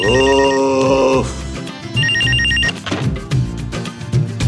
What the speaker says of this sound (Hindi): अरे फोन की आवाज नहीं आ रही?